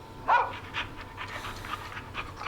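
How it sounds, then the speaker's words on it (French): A dog pants in the horror radio-host video game Killer Frequency, a quick steady run of soft breathy huffs close by, with one brief whimpering whine near the start over a low background hum. "Hello Max, c'est un bon chien Max."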